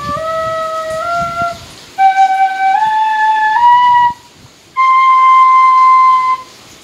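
A bamboo flute plays through a scale in three clear phrases of sustained, stepping notes, bright and close, with short pauses between the runs.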